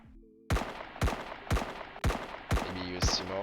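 Gunfire from a weapon in the ESFPS Survival Kit first-person shooter game demo: six sharp, evenly spaced shots about half a second apart, each loud and punchy with a short decaying tail, after a brief quiet lead-in.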